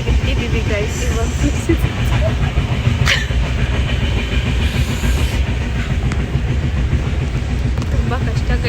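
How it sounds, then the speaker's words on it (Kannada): Heard from inside a moving passenger train on a trip to Mangalore, the carriage gives a steady rolling rumble with rhythmic clickety-clack, a brief hiss and faint background voices. "ನಾವು ಟ್ರೈನಲ್ಲಿ ಇದ್ದೀವಿ"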